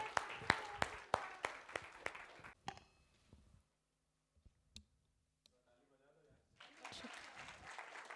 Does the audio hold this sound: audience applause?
yes